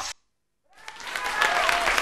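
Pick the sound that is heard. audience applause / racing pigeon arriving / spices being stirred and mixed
audience applause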